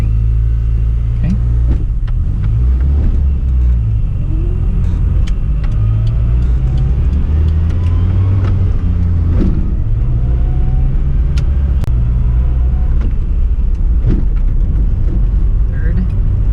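A cold stick-shift car drives and accelerates with a notchy shifter and a grabby clutch. The engine drone stays loud and constant throughout, with light clunks and bumps from the cabin.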